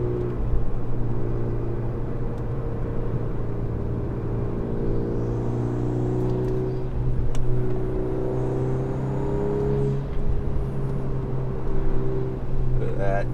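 A 2024 Volkswagen Golf R pulls hard on throttle while canyon carving, its engine droning loudly and steadily with a rising pitch, heard from inside the car.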